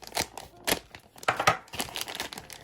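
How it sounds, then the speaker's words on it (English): Small plastic bag from a Horizon Hobby ECX Ruckus RC monster truck kit is sliced open with a knife, giving a string of close, uneven crinkles and sharp tearing rustles. "Then this last little bag here, we can go ahead and just cut open with the knife."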